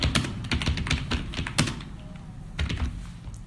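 Rapid clattering keystrokes on a computer keyboard entering a name, close and distinct, in quick bursts with a brief pause partway through.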